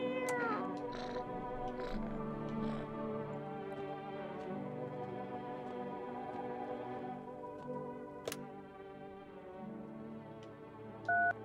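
A cat meows in the video game No, I'm Not A Human, several clear, close meows at the start over soft music, followed by a brief beep later.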